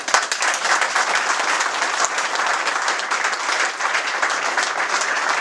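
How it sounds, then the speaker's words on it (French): Sustained, dense applause from a large audience at an inauguration event in a Brest venue, loud and even for several seconds, a couple of sharp claps near the start. "je crois qu'il mérite tous vos applaudissements."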